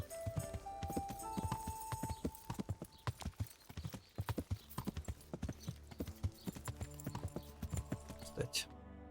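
A horse's hooves clip-clop steadily in Kingdom Come: Deliverance, a quick, even rhythm of fairly close hoofbeats over quiet game sounds, with a brief whinny-like tone early on.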